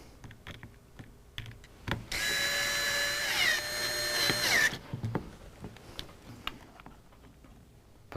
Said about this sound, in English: Just set it into position. Tighten up the screws.